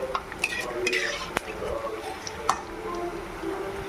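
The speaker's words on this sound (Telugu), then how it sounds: "ఇదిగోండి మనం ముందరకి వెనక్కి తిప్పుకుందాం" Punugulu, crisp fritters made from leftover idli batter, are flipped as they fry in a pan, with light scraping and clinks of a utensil against the pan over a steady soft sizzle.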